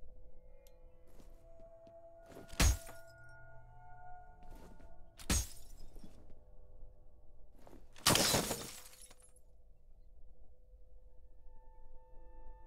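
Glass shatters in the video game F.E.A.R. in three separate loud, crashing bursts spaced several seconds apart, the last one longest, over a quiet humming background.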